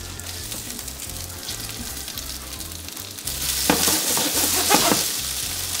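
Chicken pieces coated in potato starch frying in sesame oil in a frying pan over medium heat, a steady close sizzle that swells louder partway through as the pieces are spread and moved around the pan.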